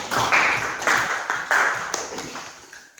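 Brief round of applause from a classroom audience, a few hands clapping in loose bursts that swell and fade over roughly three seconds, nearby and fairly loud.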